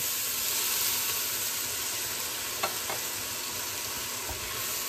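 Chopped tomatoes go into a hot pot of chili and set off a steady, loud, close hiss and sizzle that carries on throughout, with a couple of faint knocks and no talking.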